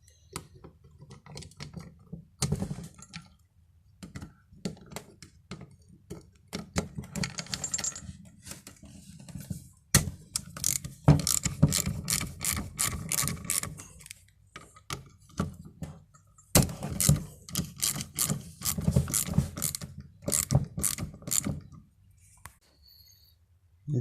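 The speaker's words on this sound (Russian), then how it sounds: "Головкой на 10 откручиваем эти болты" Socket ratchet with a 10 mm head unscrewing bolts from the alternator housing on a VAZ 2109 during diode bridge replacement; bursts of rapid metallic clicking, some long and dense, close and fairly loud with no speech.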